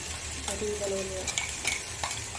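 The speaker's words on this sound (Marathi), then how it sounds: "हा बघा लाल लाल कलरची मस्त टोमॅटोची प्युरी टाकत आहोत आपण" Tomato puree poured into a pan of frying aloo matar sabzi (potato and pea curry), a steady close sizzle with brief stirring scrapes and spoon clinks, no talking.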